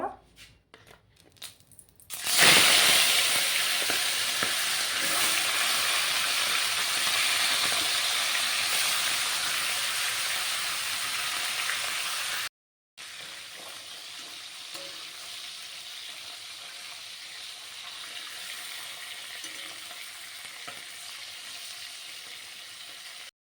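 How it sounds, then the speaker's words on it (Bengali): Fish heads fry in hot oil in a kadai, a loud steady sizzle that starts abruptly with a crackle of oil and continues close and constant, with a brief gap near the middle. "তেল গরম হয়ে গেছে এখন আমি মাছের মাথাগুলো ভেজে নেব"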